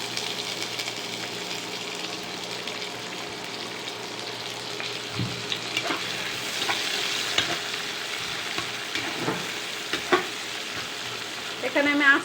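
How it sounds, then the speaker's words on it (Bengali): Chopped onion hits hot oil and fries for a liver and gizzard dopiaza. A constant close hiss of sizzling runs throughout, with a few light clicks and stirring knocks toward the end. "তেল দিয়ে দিলাম, পেঁয়াজ কুচিটা দিয়ে দিব এখন।"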